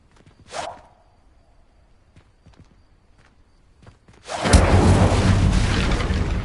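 A fire spell cast in Hogwarts Legacy erupts into a loud, sustained roaring blaze after a brief whoosh and a few faint footsteps, the flames continuing steadily to the end.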